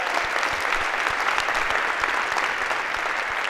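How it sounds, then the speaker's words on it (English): Steady applause from a lecture-hall audience thanking a course production team, dense even clapping filling the whole stretch without a break, no voices rising above it. "Maybe a round of applause for..."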